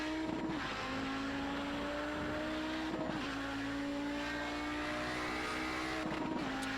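Audi 90 GTO race car lapping the Hungaroring in a racing game, its engine droning steadily at high revs with a few sharp gear changes and brief tire squeals, loud and close throughout.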